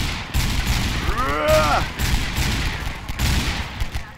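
Gunfire from customizable modded weapons in Garry's Mod: rapid, loud bursts of automatic fire echoing close by, with a brief whooshing sweep in the middle.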